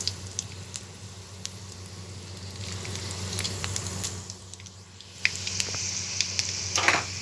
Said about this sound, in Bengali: পাঁচ ফোড়ন দিচ্ছি।